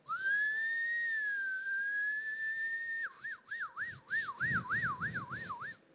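A person vocally imitates a faraway ambulance siren, holding one long steady tone for three seconds, then switching to a fast repeating yelp that rises and falls about eight times, fairly quiet and alone.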